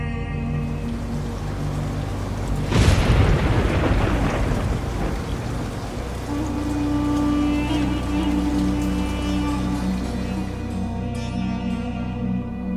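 A thunderstorm with steady rain throughout and a loud, close crack of thunder that rolls into a long rumble before the downpour settles back to an even hiss.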